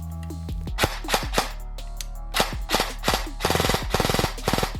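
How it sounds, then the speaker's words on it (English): Specna Arms SA-E10 PDW airsoft gun with a Gate Aster control unit fires sharp, close mechanical shots, first single and paired cracks, then quick bursts of rapid clicking fire, over a low steady hum without talking. "Binary means that every press and release of the trigger will end with a shot."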